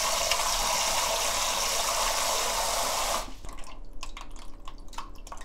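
Maesaengi seaweed rinsed in water at a kitchen sink: a loud, steady gush of running water for about three seconds, then the flow stops, leaving scattered drips and light splashes from handling.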